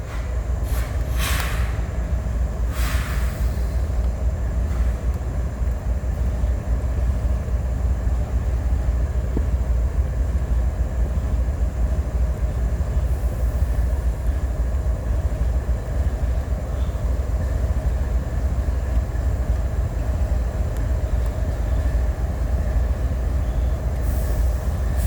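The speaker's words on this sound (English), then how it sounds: "You guys can enjoy the train." A CSX line with an Amtrak train passing by, a steady heavy rumble of rolling wheels and cars that holds for the full stretch, close and loud, with brief higher squeals early on and no talk.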